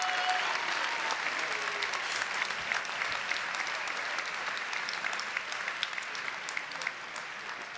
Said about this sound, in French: Un énorme tournée d'applaudissements pour cette première partie d'étudiants diplômés.